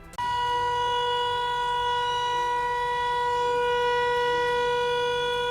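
An air raid siren at a Ukrainian railway station starts abruptly and holds a loud, steady wailing tone throughout, sounding alone without voices.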